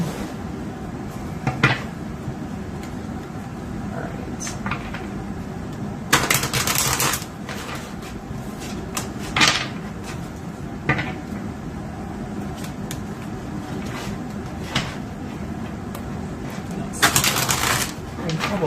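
Brisk papery shuffling of tarot cards in several short bursts, close by, over a quiet room background.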